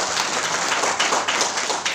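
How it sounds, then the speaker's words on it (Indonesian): Congregation at a church service clapping in a steady, dense wash of applause, many hands at once at moderate volume with no talking over it. "Beri tepuk tangan buat Tuhan Yesus."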